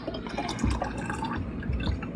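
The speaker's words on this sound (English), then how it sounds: "I'm just going to pour this last little bit" Rendered tallow pours into a jar, a close, soft liquid trickle with gurgling drips and a couple of low glugs as the last bit runs in, with no talking.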